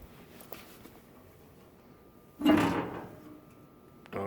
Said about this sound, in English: I'm going to open my bottom door.